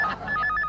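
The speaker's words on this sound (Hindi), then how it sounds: "फोन" A telephone rings in short electronic bursts, two quick repeated trills in a comedy sketch scene, clear and close with no talk over it.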